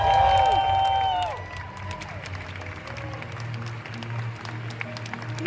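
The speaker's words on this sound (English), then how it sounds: "a round of applause and congratulations to our video game junior champion, Pietro!" Audience applause with scattered cheers fills a Pokémon video game championship finals arena, loud at first under a brief amplified voice, then settling into steady clapping and crowd noise.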